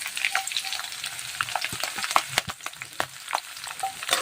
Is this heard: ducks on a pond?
no